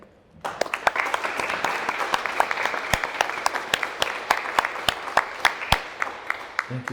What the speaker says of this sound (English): if you could all join me in a round of applause for all our colleagues that are here today